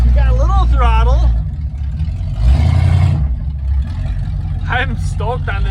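Demolition derby car engine revving hard and close, with a loud rising burst of revs, short throttle blips around it and a rough idle between them.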